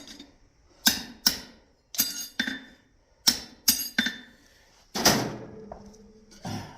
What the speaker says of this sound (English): Just a little bit of back punching here